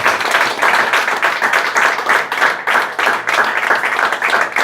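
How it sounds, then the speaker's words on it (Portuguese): Church congregation at a missions service clapping together, loud rhythmic rapid claps of many hands close by, sustained and steady with no talking over it. "mas dar uma salva de palmas para o nosso Senhor Jesus Cristo."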